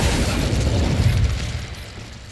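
Incendio fire spell in the video game Hogwarts Legacy: one loud whooshing burst of flame, close and full, fading away over about two seconds with no voice over it.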